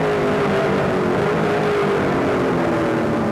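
A failing race car motor in a 2008 GP3R 100 race runs out of power, giving a steady droning engine tone with wavering harmonics, fairly loud and continuous.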